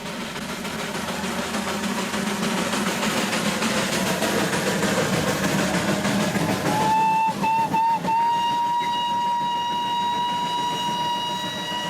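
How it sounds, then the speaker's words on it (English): A loud, sustained steam locomotive whistle on the Darjeeling railway blasts over the rumble of a train, holding a steady pitch with a few brief stutters before settling into a long tone. "everyone along the way knows it's him by the sound of his whistle."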